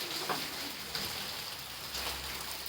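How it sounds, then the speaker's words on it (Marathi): Steady rain falls in a continuous soft hiss, with a few faint drips and taps standing out. "पाऊस वगैरे दिसतोय थोडा नाही चालूच आहे बघा"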